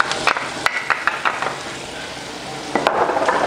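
Onion and garlic sizzle loudly in hot oil in a skillet while a spoon stirs them, scraping and clinking against the pan in bursts over a continuous frying hiss.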